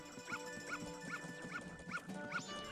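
Dog barking in the video game Majora's Mask, with short yelping barks repeating at a steady rhythm over constant background game music, fairly faint overall.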